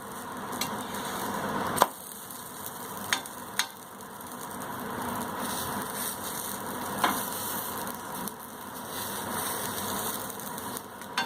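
Stuffed roti pressed and cooking on a hot pan, giving a steady soft sizzle throughout with a few sharp taps or clicks near the start and one later, close and fairly quiet.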